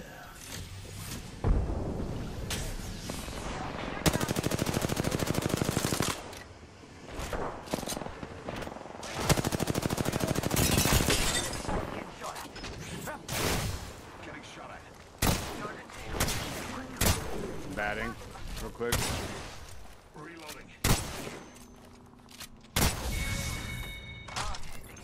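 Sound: heavy gunfire in the video game Apex Legends

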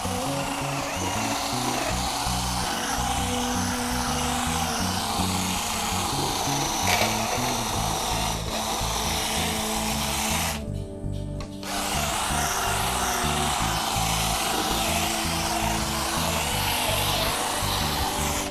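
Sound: Xenon 12-volt cordless polisher running at speed 1

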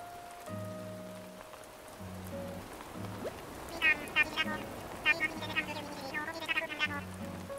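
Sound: rain in the video game Animal Crossing: New Horizons

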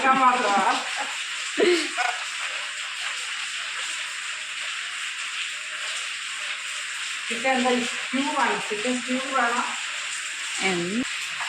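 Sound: stirring chicken curry ingredients in a pan

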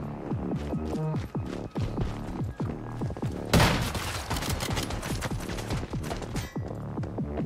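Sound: gunfire from the video game Once Human

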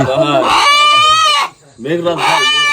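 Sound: rooster crowing

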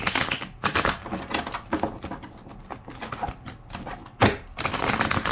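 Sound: shuffling tarot cards

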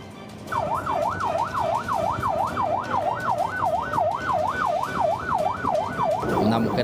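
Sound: ambulance sirens leaving a prison

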